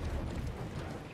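A horse runs in the medieval battle game Conqueror's Blade, hooves thudding in a dense continuous clatter under a loud wash of battlefield noise, with no voice.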